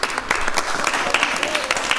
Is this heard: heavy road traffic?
no